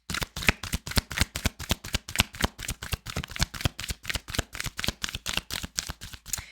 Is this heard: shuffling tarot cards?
yes